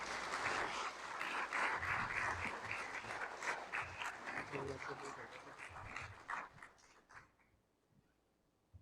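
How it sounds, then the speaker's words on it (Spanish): Audience applause at a cultural week conference in La Cañada, a dense patter of clapping that holds steady for several seconds, then thins out and fades to near silence at the end. "Damos un fuerte aplauso."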